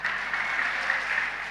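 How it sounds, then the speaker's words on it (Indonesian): Steady, dense clapping from an audience at an Islamic sermon (tabligh akbar) in Tawangmangu, loud and continuous without pause, no talk over it. "Kenapa tepuk tangan?"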